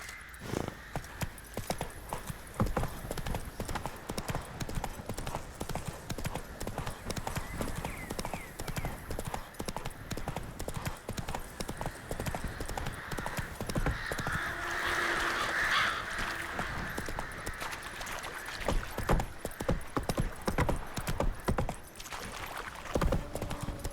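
Roach the horse's hooves clip-clopping at a steady trot in The Witcher 3, an even rhythm of light hoofbeats under faint ambient game sound, with brief muffled voices in the background.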